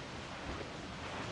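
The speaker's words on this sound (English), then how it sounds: "Storm, Captain! Looks bad!" Stormy open sea in Assassin's Creed IV Black Flag: a steady, dense roar of wind and surging waves, continuous and fairly loud, with no voices over it.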